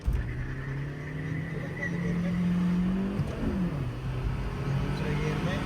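Hyundai Creta Turbo and Honda City accelerating side by side in a drag race, a steady engine drone rising in pitch before a gear-change dip, then climbing again, with someone talking over it.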